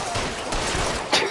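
Gunfire in an LAPD detective video game, a short, dense burst of shots with a loud crack near the end, layered over game background noise.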